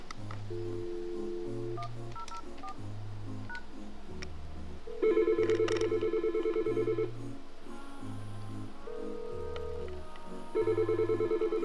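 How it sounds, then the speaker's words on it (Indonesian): An office desk telephone rings on a call placed to an internal extension, sounding as a steady, evenly spaced series of electronic ring tones with short pauses, repeating throughout with no one talking. "Kita biarkan saja telepon itu berdering untuk mengetes voicemailnya."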